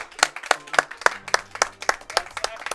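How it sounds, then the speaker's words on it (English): An audience at a live speedrunning charity event claps in a steady, close rhythm of distinct hand claps, a small group applauding with no talk over it. "That's worth applause!"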